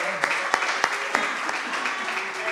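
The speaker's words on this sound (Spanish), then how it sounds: "ese aplauso grande" Audience applause at an anniversary interview event in Ayamonte, a dense wash of clapping with a few sharper claps standing out, moderately loud and steady over about two and a half seconds.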